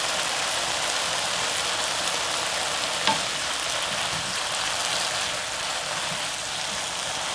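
Braised burdock root simmering in a pan with corn syrup, a steady close bubbling sizzle like light rain, with one soft tap midway and no voices.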